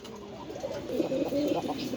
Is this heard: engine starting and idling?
no